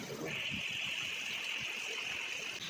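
Heavy rain floods a street like a river, a steady rushing wash of water under a sustained high whistling tone, with faint voices nearby.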